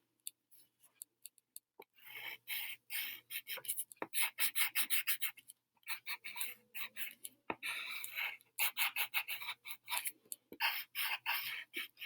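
Green colored pencil scratching across paper while coloring a cactus drawing, quiet close rasping strokes in short rhythmic bursts with brief pauses between, no voices.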